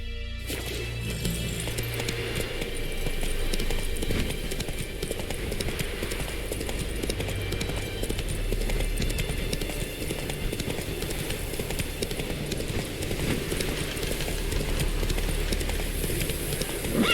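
Roach the horse gallops in The Witcher 3, a steady run of hoofbeats that carries on loud and continuous, with no voices over it.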